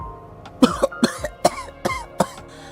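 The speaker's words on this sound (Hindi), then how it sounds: "तभी अचानक उन तीनों के पीछे से एक खांसने की आवाज आई" A series of sharp coughs, about seven in a row, close and fairly loud, spaced evenly over a couple of seconds.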